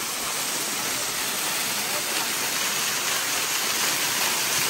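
Loud, steady roar of rushing water at Nathia Gali near Murree, a dense continuous wash of noise filling the whole clip without pause.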